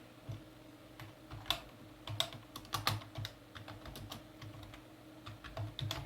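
Computer keyboard typing during a ZULA gaming session: irregular bursts of close, crisp key clicks with a few louder taps, over a faint steady background hum.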